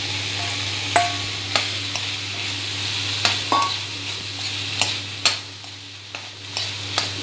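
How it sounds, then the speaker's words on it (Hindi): Drained pasta with black pepper is stirred in a sizzling pan while cooking cheese pasta, giving repeated close scrapes and clatters of a utensil over a steady frying hiss, with no talk. "इसको अच्छे से हिलाएंगे।"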